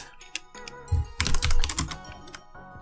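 Quick keystrokes on a computer keyboard clatter close and clear, in uneven bursts with a faster flurry in the middle, with no voices.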